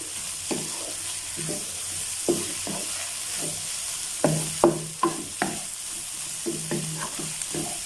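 Cauliflower frying with spices in a pan, with a constant soft sizzle and hiss beneath irregular scraping stirs of a spoon against the pan, heard up close with no talking.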